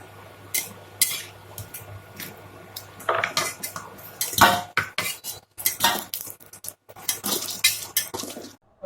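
A wok is set down on an induction cooktop while bread soaked in jaggery syrup is being made, giving a run of close metallic clatters and clinks from pans and utensils, irregular and fairly loud with brief pauses between.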